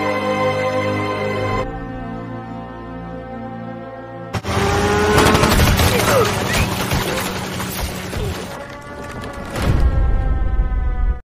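Rapid bursts of gunfire from Japanese military planes in a war film, a dense crackling barrage laid over a dramatic musical score, rising and falling for several seconds.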